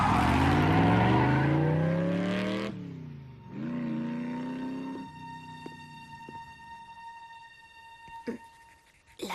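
A motorcycle in the Transformers Prime cartoon roars past with a rising, rapidly shifting engine whine, then settles into a steadier revving drone with tonal electronic effects and a few sharp hits near the end.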